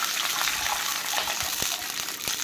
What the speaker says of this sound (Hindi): गोटे कप रे आधा कप आमे पानी दे दीची।